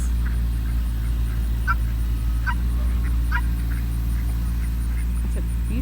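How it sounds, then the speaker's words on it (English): Chickens and roosters clucking and calling in short bursts over a constant low rumble, with several birds sounding at a moderate distance. "You hear all the roosters. Chickens are so loud."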